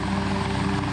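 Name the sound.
helicopters at a plane crash site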